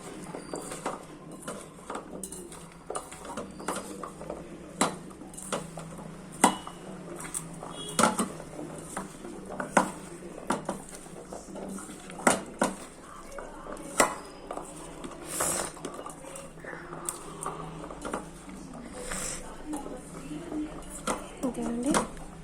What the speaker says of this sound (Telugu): సాల్ట్, ఉప్పు, కారం, బ్లాక్ పెప్పర్, చాట్ మసాలా వేసి మిక్స్ చేసుకోవాలి.